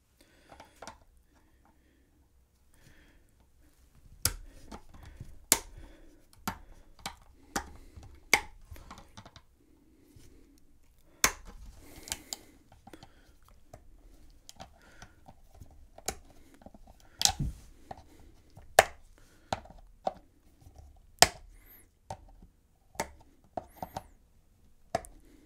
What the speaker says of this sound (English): Just use a pair of wire clippers like this.